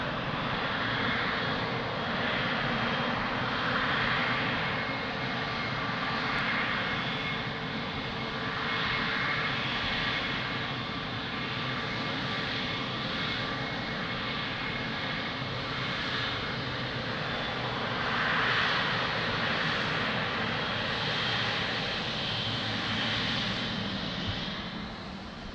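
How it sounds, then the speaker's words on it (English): An Angola Boeing 777 lining up on the runway at Lisbon Airport gives off a steady, distant jet engine roar that holds evenly for the whole stretch, with slight swells and no voices. "So 777 is lining up."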